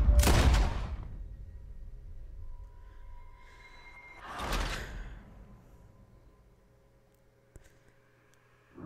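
Two loud, sharp gunshots in Red Dead Redemption 2, separated by a few seconds, each trailing off into a low hum and faint electronic tones.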